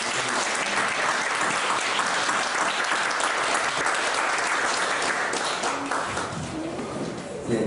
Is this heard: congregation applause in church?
yes